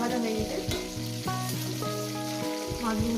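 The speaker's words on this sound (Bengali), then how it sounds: "মাছগুলো ভাজা হয়ে গেছে," Fish fry in a pan of hot oil, giving a continuous sizzle with stirring noises, heard up close over tonal background music.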